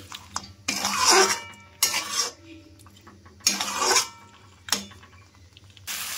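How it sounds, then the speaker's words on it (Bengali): Chicken pieces are stirred into spice masala in a pan, in four loud, rasping scrapes spaced about a second apart, with quieter sizzling and clinks between them. "তো এবার চিকেনগুলো দিয়ে ভালো করে আমি মশলার সঙ্গে নাড়াচাড়া করে নিচ্ছি।"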